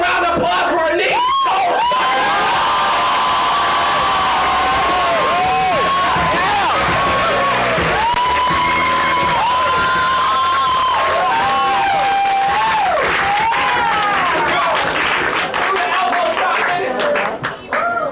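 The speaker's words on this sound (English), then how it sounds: "Give a round of applause for our Nick." A poetry slam audience breaks into sustained applause mixed with cheering and high whoops, loud and steady for the whole stretch, with voices calling out through the crowd.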